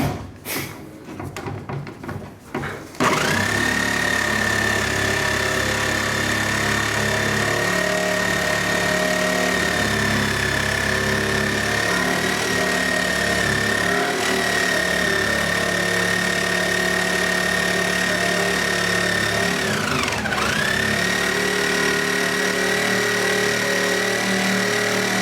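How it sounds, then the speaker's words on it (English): An angle grinder works on metal with a steady, high spinning whine held for a long stretch, dipping once under load before it recovers, after a short burst of clatter at the start. "My angle grinder, yeah. That'll crush it."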